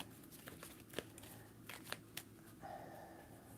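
Tarot cards are shuffled close by, very quietly, giving soft papery riffles and several crisp flicks over a few seconds.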